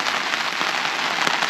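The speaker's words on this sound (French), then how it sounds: "la pluie vient de pogner solide, là. Ben, solide. Il pleut." Heavy rain pours steadily onto a forest campsite in a hunting and fishing zone, a dense, close hiss of drops drumming on surfaces without pause and with no voices.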